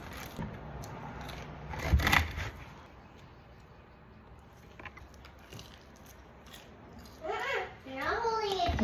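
A knife cuts through sourdough focaccia, giving a brief crunchy crackle of crust near the start, then quiet sawing and soft scraping, with a faint voice near the end.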